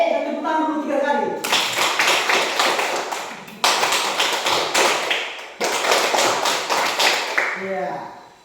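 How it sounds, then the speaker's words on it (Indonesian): A group of children claps hands in three bursts of rapid, loud clapping with short pauses between them, after a voice in a classroom setting. "Kita tepuk tangan dulu 3 kali."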